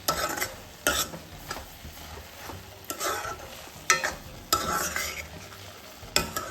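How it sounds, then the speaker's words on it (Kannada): Carrot halwa with milk, ghee and sugar is stirred in a pan, a spoon scraping rhythmically against the metal roughly once a second over a soft bubbling sizzle, close up. "ಮತ್ತು ಇದನ್ನೆಲ್ಲ ಕುದಿಸಿ ಮಿಕ್ಸ್ ಮಾಡಿಸ್ರಿ."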